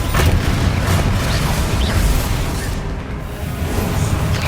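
Repeated blasting-spell explosions from the Hogwarts Legacy video game, a loud continuous rumble of booms and crashing bursts with no pauses.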